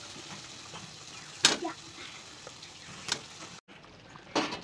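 Potatoes tipped into hot oil and fried spice paste in a pan, giving a few short sizzling crackles over a low, steady frying hiss, fairly quiet and close.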